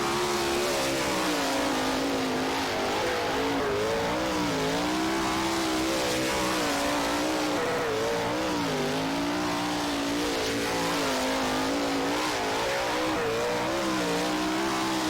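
Sprint car engines race in the rFactor video game at Premier Speedway, with a rival car running right behind. A loud, continuous high-revving roar rises and falls as the engines surge through the corners, with no voices.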